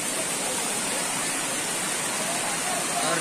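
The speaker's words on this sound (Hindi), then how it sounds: "ये है अपना झरना।" Steady broadband roar of a waterfall in a forest at a Mainpat tourist spot, a constant dense rush of falling water filling the whole clip without pause.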